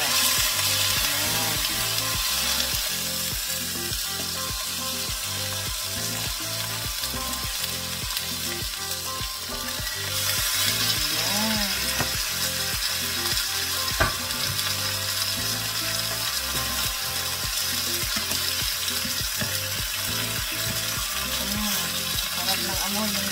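Tilapia frying in a pan, with a loud continuous sizzle and crackle throughout and a steady rhythmic scraping as the fish is stirred or moved, heard close up without pause.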